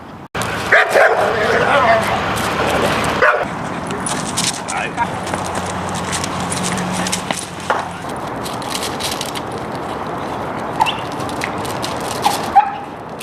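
A Catahoula mix dog with big-dog aggression barks and yips repeatedly in an excited, agitated flurry amid loud background noise, with people talking around it.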